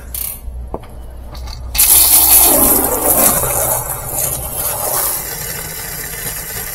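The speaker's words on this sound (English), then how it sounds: "you want to run the water up to the tub" Water gushes steadily from a hose into the tub of an old-school Whirlpool Planform washing machine, a broad continuous rush that starts abruptly after a few small clicks and holds up close.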